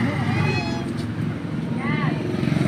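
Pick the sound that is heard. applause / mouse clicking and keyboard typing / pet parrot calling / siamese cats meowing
siamese cats meowing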